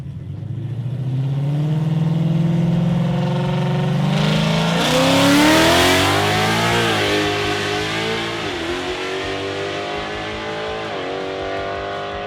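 A 2024 Ford Mustang Steeda Silver Bullet 2.0 makes a drag strip run, its engine loud and close as it revs hard and climbs through the gears with sustained roaring acceleration and brief shift dips.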